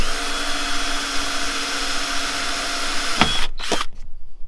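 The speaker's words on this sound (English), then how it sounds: "drill bit and we just want to pierce a hole through" A power drill with a 2.5 mm bit bores a hole in a VW T5 van, whirring loudly and steadily at close range before winding down in a few short stop-start bursts.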